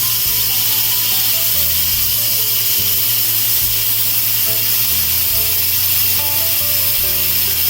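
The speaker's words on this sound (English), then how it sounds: "I'll just direct the steam over towards the vent there by using the wooden spoon" Steam hisses steadily and loudly from an Instant Pot pressure valve during a turkey chili cook, a continuous broadband rush with low tonal sounds stepping along beneath it.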